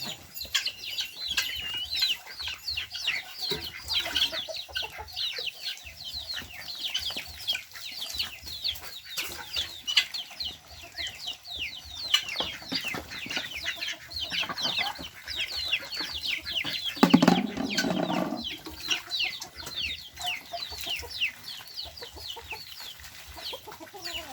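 Busy duck pen with constant overlapping quacks and chatter from many ducks nearby, plus a brief louder squawk partway through.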